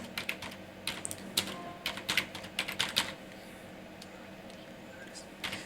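Keys clatter on a computer keyboard while entering a purchase voucher in Tally Prime accounting software, with quick irregular bursts of close clicks, a short pause, then a few more taps.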